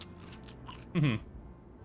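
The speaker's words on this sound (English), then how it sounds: "So we eat some of our meat as well." A single crunchy bite of meat in the zombie survival video game DREADZONE, one short chomp rising over a steady low game ambience.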